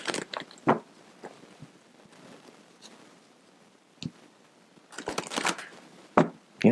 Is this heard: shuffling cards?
yes